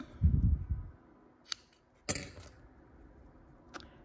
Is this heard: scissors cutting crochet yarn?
yes